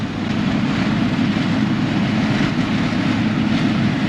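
A Fantasia Green VW Lupo pulls hard onto a highway: a loud, steady engine drone with heavy road and wind roar throughout, heard from inside the car, no talk.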